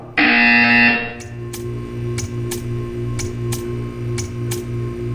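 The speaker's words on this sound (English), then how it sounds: "You will hear a buzzer. When you hear the buzzer, stare at the art." A loud buzzer from the Portal 2 video game blares for about a second, then a soft regular ticking continues over a low electronic hum.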